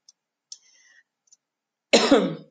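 A single loud, harsh cough bursts out near the end after a quiet stretch with a few faint clicks and small mouth noises.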